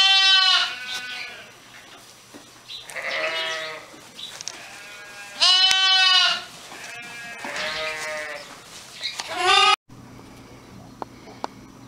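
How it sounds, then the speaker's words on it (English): Newborn lambs let out in winter lambing season bleat repeatedly, loud and close, with several overlapping calls and short pauses, followed by quieter background noise. "And then I let lambs out, and they're having an absolute blast."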